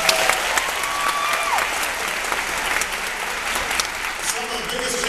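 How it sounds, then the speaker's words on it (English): An audience at a public event with President Obama in Bladensburg claps loudly and continuously, with a few whistles and shouted voices mixed into the thick wash of applause. "Give him a big round of applause."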